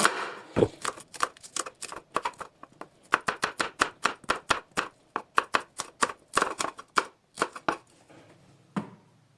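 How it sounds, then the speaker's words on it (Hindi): An onion is chopped with a knife on a board, a long run of sharp, close, fairly regular chopping strikes in quick bursts, with no voices. "प्याज को भी हम काट लेते हैं।"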